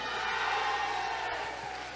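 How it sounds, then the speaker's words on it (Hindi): A hall audience applauds loudly, a dense, steady wash of clapping that lasts the whole moment without a break. "जोरदार ताली होनी चाहिए।"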